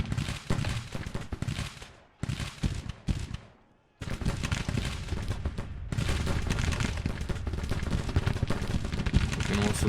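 Cannon and musket fire crackle in the Civil War strategy game Grand Tactician, dense rolling volleys of gunfire with heavy booms, broken by two short lulls before the barrage resumes and keeps pounding.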